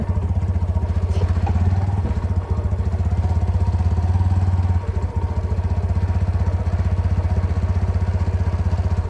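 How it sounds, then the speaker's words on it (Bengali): A motorcycle rides along with a loud, steady low engine drone and a throbbing rhythm, close by, holding much the same pitch throughout with a brief dip in level near the middle and no talk. "তো আমি রওনা দিলাম বাইক নিয়ে"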